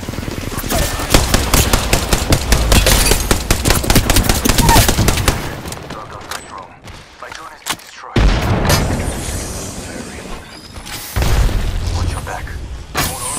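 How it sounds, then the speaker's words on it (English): Enemy gunfire in a shooter video game: dense, loud bursts of rapid automatic fire and booming shots crowd the first half, then a lull and renewed heavy volleys, with game voice callouts mixed in. "The enemies are shooting at me."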